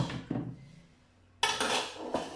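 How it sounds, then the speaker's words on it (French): Waffle batter stirred in a bowl, a few quick clinks and scrapes of a utensil against the dish in two short bursts, with a brief quiet gap between them. "Et je vais continuer à mélanger."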